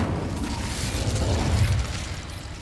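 A fire spell cast in the Hogwarts Legacy video game gives a low, rumbling whoosh and burst that swells and then fades over a couple of seconds, with no voices.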